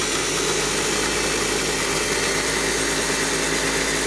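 A slot car motor spins steadily on a dyno during tech inspection, a continuous close, loud mechanical whine and hum that holds an even pitch for the whole stretch with no talking.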